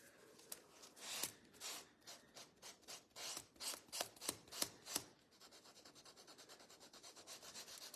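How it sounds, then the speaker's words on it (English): Sandpaper is rubbed over a wooden craft-room piece to age it, with a series of distinct rasping strokes that build in loudness, then give way to quicker, lighter continuous scrubbing, close up and with no talking. "I'm gonna sand it just a little bit to make it look a little older"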